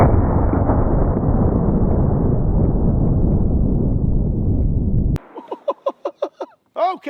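A CMMG Resolute rifle chambered in 350 Legend, fitted with a muzzle brake, fires; its blast rolls on as a long, loud, dense roar before cutting off, followed by a string of quick clicking and chirping sounds.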